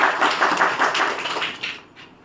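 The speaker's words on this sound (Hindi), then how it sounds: "ताली बजाओ बेटे।" A few people clap hands in Hindi classroom, a quick, even patter of light claps that fades out near the end.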